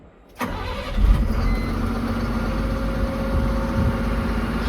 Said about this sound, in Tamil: இப்போ வண்டியை ஸ்டார்ட் பண்ணி கொஞ்சம் மூவ் பண்ணி பார்க்கலாம்